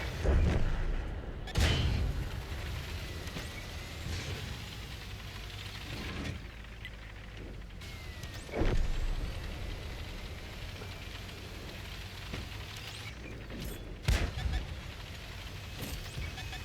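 A tank main gun fires in a World of Tanks console battle, with a few heavy booming shots spread across the stretch over a rumbling engine and battle noise.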